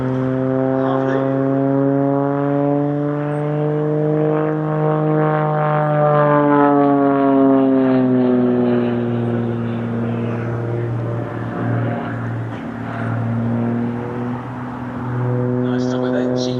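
An Extra 330 aerobatic plane with a 330 horsepower engine performs at Sywell Airshow, its loud propeller and engine drone sweeping up and down in pitch as it climbs and maneuvers, with a commentator talking over it.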